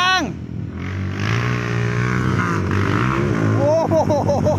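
A motorcycle revs and accelerates at the JAT circuit, its engine climbing and surging loud and close, while voices shout over it.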